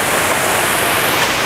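A terraced waterfall with an oasis at an aviary rushes in a loud, continuous broadband roar, steady and close, with no breaks or other sounds.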